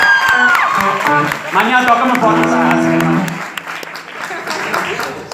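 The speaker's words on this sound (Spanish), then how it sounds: "un aplauso muy grande para Formosa" A crowd at a live children's show applauds and cheers loudly, with steady clapping and shouting underneath as someone speaks over the noise through a microphone.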